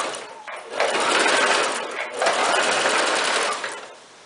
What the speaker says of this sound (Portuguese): Vou colocar a agulha pra dentro do tecido e vou começar a costurar